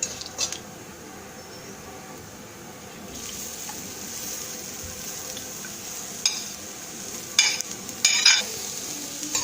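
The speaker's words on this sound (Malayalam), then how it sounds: "നന്നായി ഇളക്കി കൊടുക്കാം." Tender jackfruit stir fry, Kerala-style thoran, cooking in a pan: a low steady sizzle with a spoon stirring, then a few sharper scrapes and clinks against the pan near the end.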